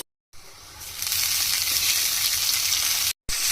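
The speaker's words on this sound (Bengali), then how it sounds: "এখন এগুলো হালকা করে ভেজে নিতে হবে।" Boiled spinach frying in a pan, a loud broad sizzle that swells up after a brief start and holds steady, briefly cut off near the end, with no talking.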